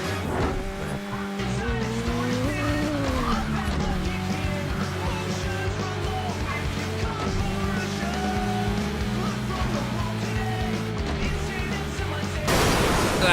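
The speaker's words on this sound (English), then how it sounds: "That is a car." Cars race in a PlayStation 2 racing video game, with loud, steady engine whine and shifting revs running the whole time and a sharper burst of noise at the very end.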